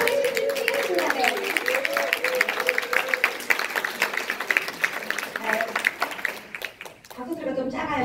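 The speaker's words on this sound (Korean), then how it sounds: "박수 소리가 좀 작아요." A seminar audience gives a modest, rather thin round of clapping that runs steadily for several seconds beneath a speaker's amplified voice, dipping briefly near the end.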